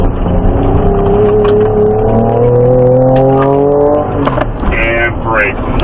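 A Ford Ranger Raptor powers out of a turn on an off-road course, its engine rising in pitch as it accelerates, loud and close, with an instructor talking over it.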